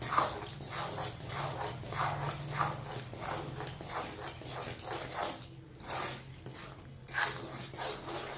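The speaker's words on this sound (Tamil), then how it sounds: "நம்ம ஆயிலை ஊற்றி ஊற்றி இப்படி கிண்டிக்கிட்டே இருக்கணும்" Mysore pak mixture with ghee and oil being stirred in a pan, a steady rhythmic scraping and rubbing of spoon against metal, close and continuous with brief pauses, no talking.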